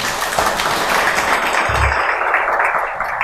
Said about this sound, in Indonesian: kita beri tepuk tangan buat Romo Sindu ya